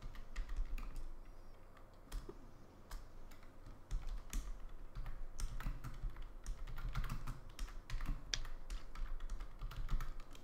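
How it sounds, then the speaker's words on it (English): Typing on a computer keyboard during a GTA V livestream, a steady patter of quiet key clicks with irregular rhythm, slightly off to one side and faint against low room hum. "So weird typing. I'm typing slightly off to my left."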